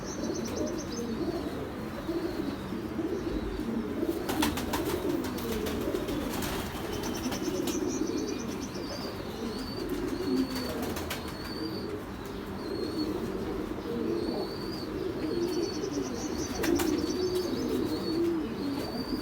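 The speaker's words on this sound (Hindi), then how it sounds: "और ये मेरा उड़ा हुआ कबूतर है" Pigeons kept by a pigeon fancier coo softly and repeatedly at close range, low throaty burbles over a constant background murmur, with scattered faint chirps from other birds.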